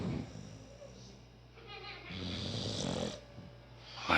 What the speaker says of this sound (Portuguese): Essa porra dessa cadela roncar mais do que eu